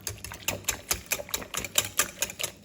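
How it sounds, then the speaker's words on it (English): A whisk beats eggs and pumpkin together in a bowl for pumpkin spice flan, a quick, steady run of light rhythmic clicks and taps, close and fairly quiet. "Whisk this together."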